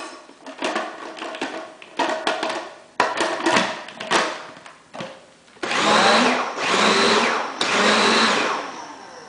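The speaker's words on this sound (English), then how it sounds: "Now, you saw it in the blender." After some intermittent clattering and short whirs, a blender roars loudly in three long bursts with brief gaps between them, blending strawberry ice cream. No one speaks.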